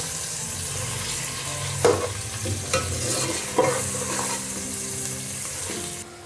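Garam masala and salt for Pakistani chicken biryani stirred and fried in a pan, a steady close sizzle with a few sharp scrapes of the spoon, no talking.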